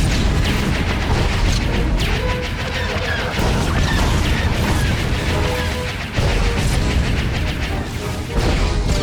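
Blasts, crashes and rapid weapon fire from a Star Wars space combat video game, including lock-on missile volleys fired four at a time, forming a dense, loud, continuous barrage with repeated sharp impacts.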